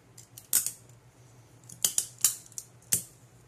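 Tape is pulled and torn for sealing a comic book onto a backing board for shipping. Several short, sharp, crisp rips sound close by with gaps between them, alone in a quiet room.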